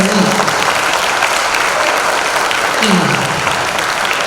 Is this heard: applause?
yes